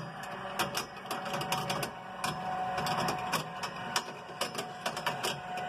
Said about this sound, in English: that's the gauge making a lot of noise